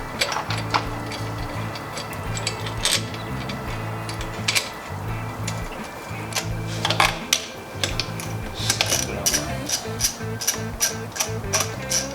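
A ratchet tightens the coolant expansion line fitting on a turbo BMW E30 engine, giving close, crisp repeated clicks in uneven bursts over a low background hum.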